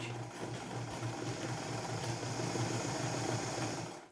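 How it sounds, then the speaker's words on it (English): A sewing machine stitching fabric for a headband, a steady close mechanical whir with a fast even needle rhythm, running alone until it stops at the end. "I'm lowering my presser foot, and then we're going to stitch."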